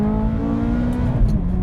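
Ferrari F430 engine on a curvy road with sharp bends and elevation changes, a steady close, loud droning engine tone with strong harmonics, without voices.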